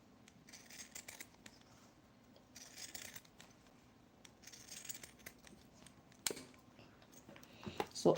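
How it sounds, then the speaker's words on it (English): Wavy-edged craft scissors snip through paper in short, crisp bursts of cutting, close and quiet, with pauses between strokes and a louder knock near the end. "And you can see the way I'm actually trying to use the wavy scissors."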